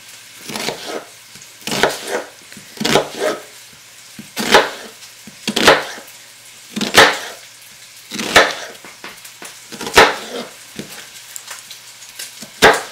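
A kitchen knife chops a peeled onion on a cutting board for beef bourguignon, giving slow, evenly spaced, crisp strikes about a second apart, close and distinct, with no speech.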